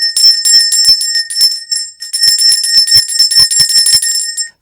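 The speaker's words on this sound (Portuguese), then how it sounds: "eu vou tocar o sino do incesto, que vai valer por todo o filme" A bell rung as a sound effect, a rapid series of bright metallic rings in two bursts with a brief gap, loud and close, sustained ringing tones.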